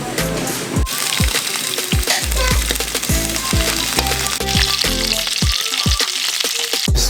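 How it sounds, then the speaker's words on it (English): Sweet sausages frying in olive oil, a loud, continuous sizzle with repeated low thumps and knocks from the pan and utensil scattered throughout. "Now I'm gonna fry them up, give them a good cook down"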